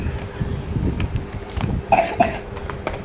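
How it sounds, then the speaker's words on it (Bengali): A person indoors at home coughs a couple of times in quick succession, fairly close, over a quiet room background with faint shuffling. "কাশি হচ্ছে।"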